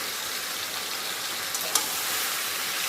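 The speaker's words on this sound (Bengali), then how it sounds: "এবার ভালো করে আবার কষিয়ে নেব যাতে মশলার কাঁচা গন্ধটা যাতে চলে যায়" A paste of ginger, green chili, garlic, tomato and cumin sautéing in oil in a pan, giving an even, bright hiss of sizzling with a couple of small stirring knocks, close and continuous, with no voices.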